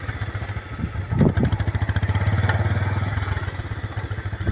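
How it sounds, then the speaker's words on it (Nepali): A motorcycle labours up a steep hill road, its engine chugging in a fast, steady pulsing beat that swells in loudness midway, close and clattering, with no talk. "बाइकले तान्न पनि गाह्रो भइरहेको छ"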